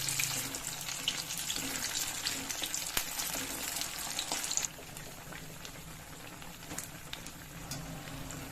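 Sabudana vadas frying over a medium flame, their oil bubbling in a dense, continuous sizzle that softens slightly partway through. A few light scrapes of turning are heard, with no talk.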